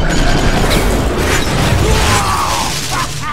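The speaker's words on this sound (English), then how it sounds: "That grenade just teleport inside him." Grenade blast in Tales from the Borderlands, a loud booming burst with crashing mechanical debris that rumbles and fades over a few seconds, with no talking.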